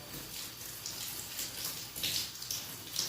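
Collard and mustard greens rinsed together under a running tap, a steady close hiss of water with splashing bursts over about three seconds and no talk.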